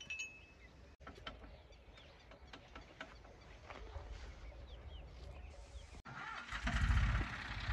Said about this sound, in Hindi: भाई ने ट्रैक्टर स्टार्ट कर लिया है